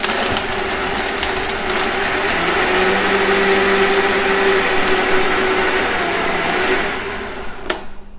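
A blender running steadily at high speed, whirring loud and continuous as it blends a chocolate breakfast smoothie, then winding down near the end.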